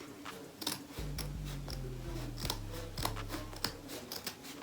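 Scissors snip through fabric in a series of quiet, close, crisp cuts spaced about a second apart, each ending in a soft click, with no speech.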